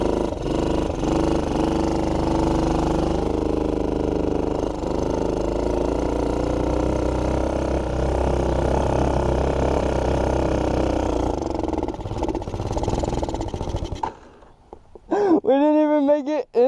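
A TaoTao 110cc quad engine runs steadily and loudly up close for about fourteen seconds with a throbbing low rumble, then cuts out abruptly, followed by a brief quieter rising whine near the end.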